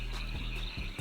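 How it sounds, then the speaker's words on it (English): Frogs and toads croaking as a dark story sound effect, a dense layered chorus of low throbbing croaks and shrill trilling calls, steady and close. "all they can hear is the cacophonous noise of frogs, of toads"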